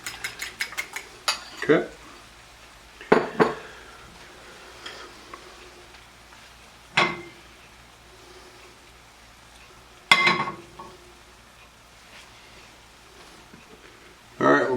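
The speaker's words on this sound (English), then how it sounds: "we'll mix our eggs, get those all ready to go" Eggs whisked in a bowl for a Greek omelet, quick clinking taps of utensil against bowl in short bursts, separated by pauses, with a brief spoken word early on.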